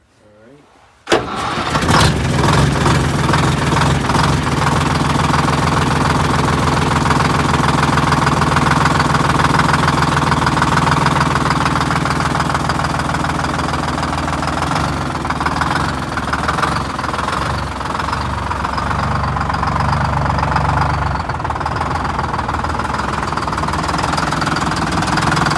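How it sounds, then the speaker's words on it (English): A 1964 GMC cracker box cab-over truck engine catches after a short crank and settles into a loud, steady, rough idle, close by and continuous for over twenty seconds. "You can start it back up and let it idle."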